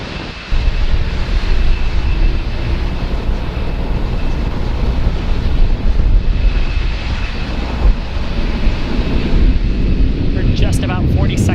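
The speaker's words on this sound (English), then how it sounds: "Falcon 9 clearing the tower at Space Launch Complex 40 and making its way to orbit" A Falcon 9 rocket with Merlin 1D engines roars after liftoff from Space Launch Complex 40, a loud broad continuous rumble that holds steady throughout, with a voice talking over it.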